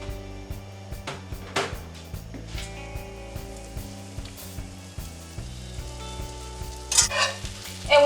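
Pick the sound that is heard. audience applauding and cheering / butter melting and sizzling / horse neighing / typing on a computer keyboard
butter melting and sizzling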